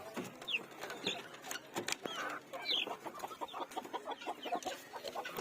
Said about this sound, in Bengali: এদিকে যে মুরগি খাওয়ার জন্য ব্যস্ত একদম আমার হাত থেকে খাচ্ছে